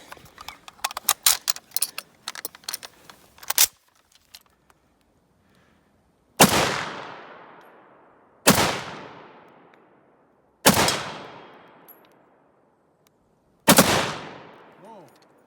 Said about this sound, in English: Fully automatic G41. I think I bump fired it.